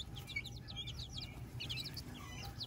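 Faint, rapid high-pitched peeping of small Aztec chicks, in quick clustered bursts over a low background rumble.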